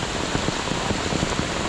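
Steady rain falls on a hiking trail up to a fort in Palghar, a dense, constant hiss with patters of drops throughout and no voices.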